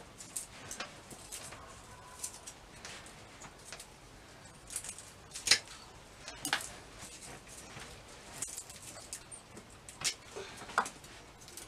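Scissors snipping dead parts off a potted plant during a seedling repotting session: scattered soft clicks and cuts at an irregular pace, close and fairly quiet.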